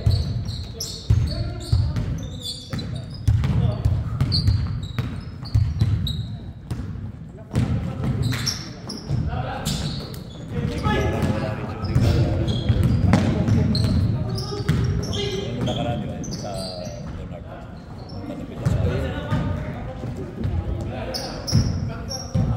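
Rhythmic thumps of a basketball bouncing on a court during a game carry on steadily beside shoes, shouts and players talking, with busy gym noise throughout.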